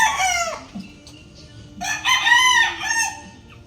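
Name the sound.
rooster crowing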